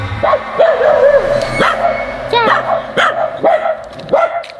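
A dog out on the street barks repeatedly in short, loud bursts, with some yips and whimpering whines between them, close by, while people talk over it.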